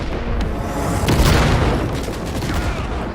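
A sticky frag grenade blast in Cyberpunk 2077 gameplay, a loud booming explosion rising to a peak partway through and rumbling off, with gunfire-like crackles around it.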